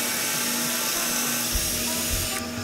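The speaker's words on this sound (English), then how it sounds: "I'm gonna drill my other hole right on that mark." A power drill bores a hole through a male-to-male fence connector, giving a steady, close, high whine that runs unbroken from start to finish with no talking.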